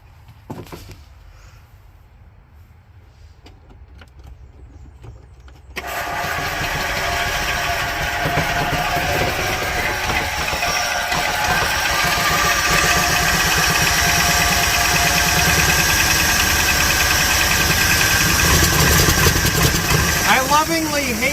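A Club Car Carryall utility vehicle fitted with a swapped-in BILT HARD 420 engine starts after a quiet stretch at about six seconds and then keeps up a steady, loud idle to the end, with some voices under it.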